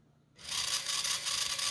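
A small wheel motor on a low-cost differential-drive robot switches on after a brief quiet start and then spins counterclockwise with a steady, close, slightly raspy whir.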